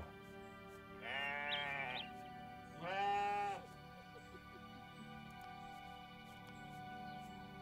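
Goat bleating on a farm, two loud drawn-out bleats about a second each in quick succession, close by, over a quiet outdoor background with faint ambience and no talk.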